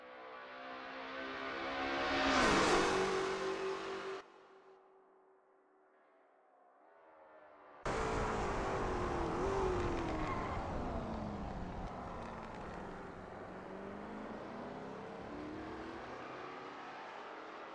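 A Lola T70 MkII Spyder race car engine roars in a sim racing game at Road America. It revs up to a loud peak, then falls to a quiet lull before the engine snaps back in loud and wavering through gear changes.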